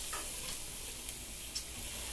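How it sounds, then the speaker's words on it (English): A wooden spoon stirs chicken in a hot pan, the steady sizzle carrying a few faint scrapes and taps from the spoon throughout. "I'm going to get a wooden spoon and stir that around."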